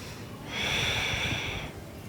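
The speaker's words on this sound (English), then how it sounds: "One more deep breath." A single long, deep breath during a yoga session, drawn through the nose with a soft, airy rush that lasts over a second, close and alone.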